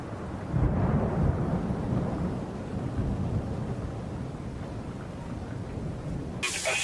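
A thunderstorm with a deep, sustained rumble of thunder and rain hissing underneath, loud and steady throughout, ending with a sudden brighter burst of noise.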